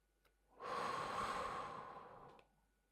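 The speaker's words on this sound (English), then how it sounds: "Take another deep breath in" A single deep, slow exhalation during a guided relaxation breathing exercise, a soft, breathy rush of air lasting about two seconds, close and steady before fading out.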